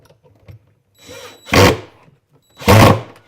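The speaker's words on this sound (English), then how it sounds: "it's a torque driver, so you're hearing the clutch and the torque driver." A torque driver sets hinge and drawer-glide screws inside a kitchen sink cabinet, giving two short loud whirring bursts with a mechanical clutch chatter, close by and separated by brief quiet gaps.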